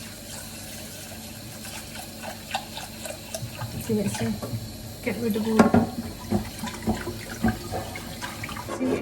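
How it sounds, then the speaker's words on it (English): Cold water runs from a kitchen tap over something being rinsed, a steady wash that grows splashier and more uneven midway, with a person speaking briefly over it. "Rinse it with cold water."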